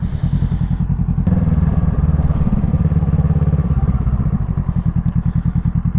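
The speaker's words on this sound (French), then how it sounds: "Elle a même pas pigé qu'il y avait une moto qui arrivait" A motorcycle rides through city traffic, its engine loud and close with a steady rapid thrum throughout and slight wind noise.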